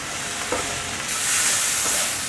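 Sweet potato stir-fried with white pepper, Sichuan pepper powder, pepper salt and raw sugar, a steady soft sizzle with scraping stirs that swells slightly midway, close and alone.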